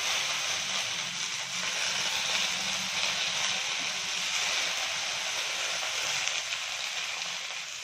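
Vegetables for a home-style Kannada gojju palya fry in oil in a pan, giving a steady, dense sizzle that stays even and continuous throughout, with no talking.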